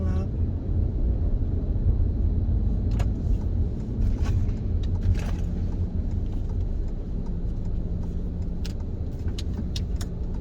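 A car climbs a mall parking ramp, with a low, steady engine hum and rumble filling the clip and occasional faint clicks and rattles above it.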